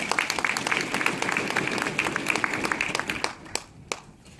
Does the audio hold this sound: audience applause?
yes